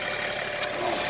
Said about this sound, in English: we're just at the running the engine